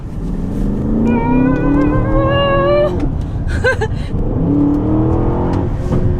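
An Aston Martin SUV engine revs and climbs in pitch, holding high revs for a few seconds, then drops and rises again over road and cabin noise.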